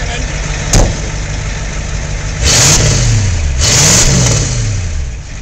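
A Ford diesel sprayer engine idling and then revved twice in strong bursts, each rise and fall clearly audible, loud and close, with a brief sharp sound early on.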